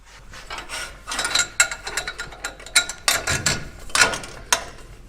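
Ratchet clicking in short uneven bursts while an exhaust clamp is tightened on a Ford 6.2L/7.3L tailpipe joint, close and fairly loud with metallic rasping between strokes and no talk.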